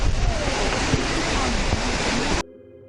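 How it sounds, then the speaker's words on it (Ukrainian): Powerscourt Waterfall in Ireland, a 121-metre fall popular for picnics, heard as a loud, steady broadband roar of rushing water close by that cuts off abruptly near the end. "водоспад це другий по довжині водоспад в Ірландії 121 метр"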